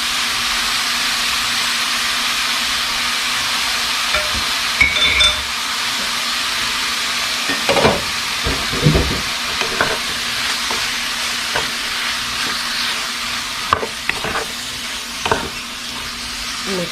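Steak and potatoes in green salsa simmer and sizzle in a pan while a spoon stirs them, with scattered scraping clinks against the pan over a steady frying hiss.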